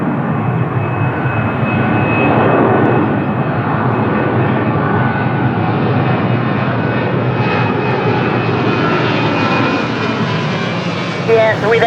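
A TAP Air Portugal Airbus A330-900 takes off at Lisbon Airport, its jet engines a loud sustained roar with a steady whine that holds throughout and slowly brightens.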